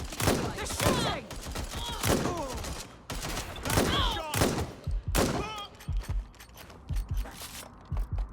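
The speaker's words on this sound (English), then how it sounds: "They're shooting!" Rapid bursts of automatic gunfire from a Watch Dogs: Legion firefight crack out in loud, repeated volleys, close and dense at first and then thinning into scattered shots, with game voices talking over them.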